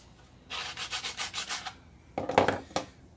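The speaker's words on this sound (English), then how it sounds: "you can take that and then you can sand your profile down" A fast break file is rubbed along a laminate profile edge, giving a close series of about six rhythmic rasping strokes, then a short pause and a few louder, harsher scrapes.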